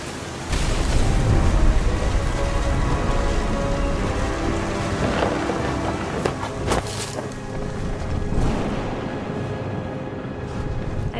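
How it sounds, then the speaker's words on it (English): Thunder rumbles over steady heavy rain in What Remains of Edith Finch, a dense continuous hiss of rainfall with deep rolling booms and a few sharper cracks midway. "The thunder sounded much too close and full of angry power"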